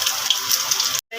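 Water poured into freshly ground masala paste for Malvani fish curry, a brief close splashing gush lasting about a second before stopping abruptly.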